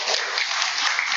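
Brief, dense applause from a congregation at a Sunday Buddhist service, a short, steady patter of many hands clapping with no talk over it.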